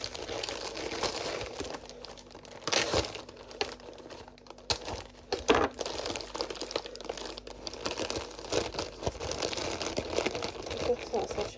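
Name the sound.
opening a parcel box, crinkling packaging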